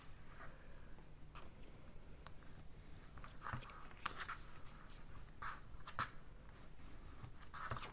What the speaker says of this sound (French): Donc, il suffit de marquer les plis.